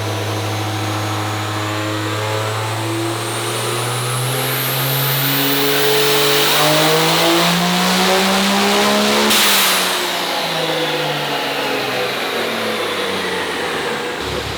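Twin-turbo 12-valve Cummins diesel pulling truck on a chassis dyno with its resonator bypassed, a loud sustained full-power pull whose deep exhaust drone climbs steadily in pitch for about fourteen seconds, then cuts off abruptly.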